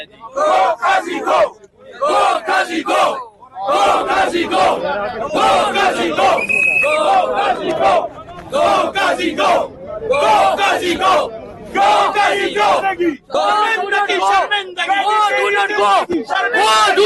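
Outside the Supreme Court, a crowd of lawyers chants slogans in loud, rhythmic bursts, many voices shouting together in repeated phrases with short gaps between them.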